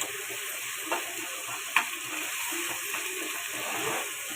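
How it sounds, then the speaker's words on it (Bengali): Spiced masala being fried over high heat in a pan alongside hilsa fish gives a steady, soft sizzle with occasional stirring clicks, alone with no voices. "চুলার পাওয়ারটা আমি বাড়িয়ে দিয়েছি কারণ একটু হাই হিটে মশলাটা কষিয়ে নিই"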